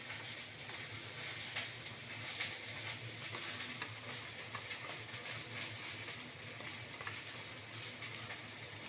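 Okra fries in a pan with a steady, even sizzle and hiss throughout, moderately close, with faint occasional clinks and no voices.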